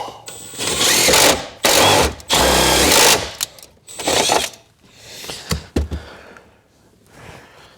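Step drill bit boring holes during a heated-seat install in a 1996 Jeep Cherokee, several loud close bursts of whining drilling, each lasting about a second, separated by short pauses and a few knocks.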